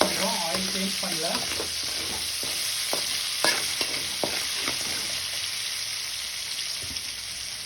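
Green chillies and cumin fry in oil, a steady close sizzle with a few scraping stirs, fairly loud and unbroken by talk.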